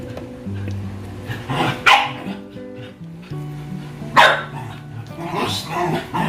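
Several pet dogs bark and yip at close range in repeated bursts, with whining tones between the barks and some background voice.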